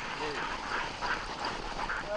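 Sled dogs yip and bark at a race on long flat trails in the Méaudre plain, scattered high calls mixed under a person talking over steady outdoor noise.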